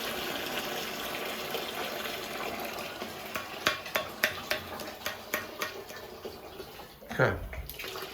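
Water draining out of a Burnham ES26 gas boiler system, a steady rushing splash with scattered clinks and knocks, then a brief louder gush near the end; a voice is heard faintly.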